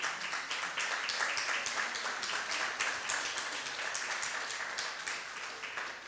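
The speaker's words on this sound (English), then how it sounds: "Give a very big hand clap to the worship team." A church congregation applauds the worship team with sustained hand clapping, a busy, even patter of many hands that continues for several seconds without speech.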